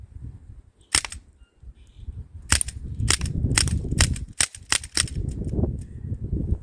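Sharp cracking shots from a Sig Sauer MPX .177 CO2 air gun fired outdoors at a target, about ten sharp reports in an uneven sequence, some singly and some in quick bursts, over a steady low background rumble.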